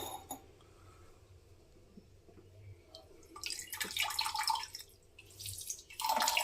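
Tap water flowing through a pipeline and solenoid valve under repair, starting as faint drips and trickles, then rising to a steady hissing gush that pauses briefly and resumes; no one speaks.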